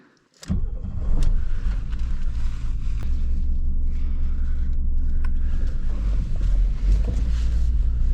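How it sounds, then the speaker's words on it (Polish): A 1985 BMW 320i E30 automatic cranks briefly and fires up, then settles into a steady, close, even idle with no talking. "Więc odpalamy auto."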